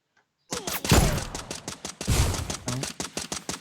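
Rapid bursts of gunfire from the video game Free Fire crack out in quick succession after a brief silence, loud and close, with a dense automatic rattle throughout.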